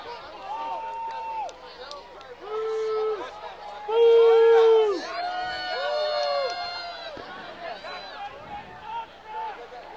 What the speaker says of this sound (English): Crowd does not like the call here at all.